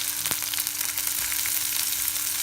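Garlic, two dried red chillies, a small onion and curry leaves fry in hot oil for paruppu kulambu, giving a steady, close crackling sizzle with a couple of sharp pops and no voices.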